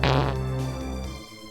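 A wall switch on the Pfhor alien ship in the video game Marathon is hit, giving one loud, low buzzing blat that starts strong and fades over about a second.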